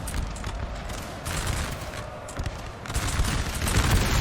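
Dense, overlapping crackle of musket volleys from massed line infantry in a Napoleon Total War battle, rolling bursts of fire stacking continuously across the whole span with no talk.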